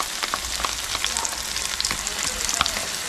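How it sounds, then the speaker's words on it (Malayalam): Tomato chilli paste hitting a hot pan sizzles loudly and steadily up close, with crackling spits and light stirring scrapes throughout. "ഇനി ഇതിലേക്ക് നമ്മൾ മിക്സിയിൽ അരച്ച് വെച്ച ടൊമാറ്റോ ചില്ലി പേസ്റ്റ് ഇട്ട് കൊടുക്കാം."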